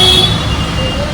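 Busy road traffic on the tree-lined road from Dadar to Matunga in central Mumbai: a brief, loud wash of passing vehicles with a horn tone over it.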